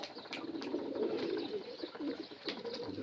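Pet pigeons coo steadily in a low, throaty murmur that fills the whole stretch, with a few soft chirps and rustles scattered over the top.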